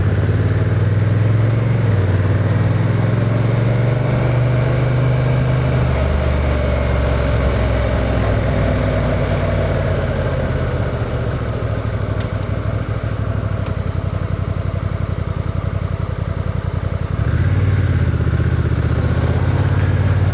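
Honda NT1100 DCT ES touring motorcycle riding on the road, its steady engine drone and wind rush loud and continuous throughout with no talk, the engine note dipping briefly then resuming near the end.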